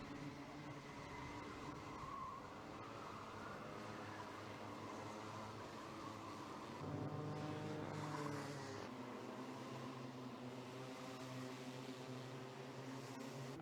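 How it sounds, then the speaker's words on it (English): Micro Max cadet racing karts in a championship final at Ellough Park, their small engines buzzing and droning at a distance with a rising and falling pitch as the karts pass, steady and fairly faint throughout. "Brown does not need to do anything more than follow these two karts home to be crowned the 2022 Cadet Kart Championship champion in our Micromax class."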